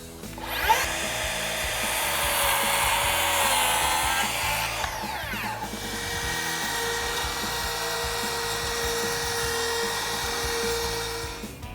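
A power saw whines loudly through pergola lumber at a marked cut line, the blade pitch dropping as it bites into the wood, then settling into a steady high motor hum with no talking.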